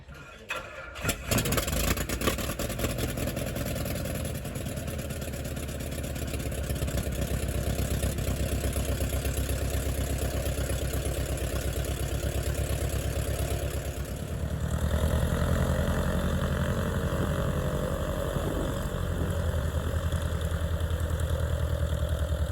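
A Vans RV-7A aircraft's piston engine cranks, catches and settles into a steady, loud idle, the propeller drone continuing throughout with a slight change in tone partway through.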